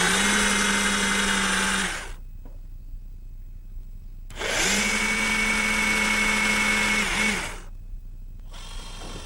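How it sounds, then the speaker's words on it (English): Portable drill fitted with a 1/2-inch brad point bit bores into wood for a high chair, two sustained loud whining runs of about two and three seconds separated by quiet gaps, with a third run beginning at the end. "I'm going to do that using a 1/2-inch brad point bit in my portable drill."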